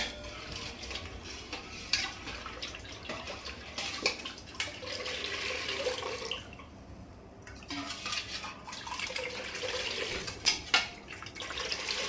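Water splashes and trickles into a container for panakam, fairly close, with a few clinks of utensils and stirring and a brief quiet pause midway.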